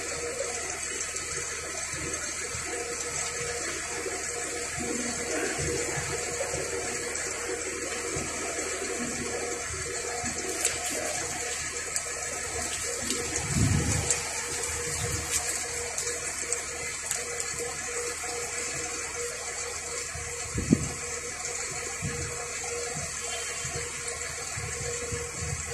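Water runs steadily into a container during a check-up of a Philtranco bus in a parking area, a continuous close splashing and gurgling rush with a few knocks, no talking.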